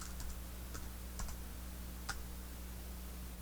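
A folder code being keyed into a computer keyboard, faint scattered keystroke clicks in short irregular bursts over a quiet steady hum.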